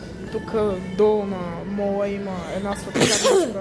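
A single sharp sneeze bursts out close to the mic, loud and brief, amid casual conversation as a person talks before and after it.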